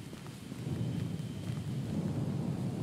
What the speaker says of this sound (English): must have been the longest lightning strike I have ever seen